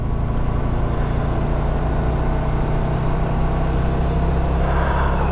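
Four-cylinder, positive-earth Austin Healey running steadily up close, a continuous throbbing engine note that holds its pitch throughout with no talk.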